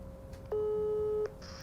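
A telephone call signal tone: one steady electronic beep lasting under a second, heard alone in a quiet room with faint background noise.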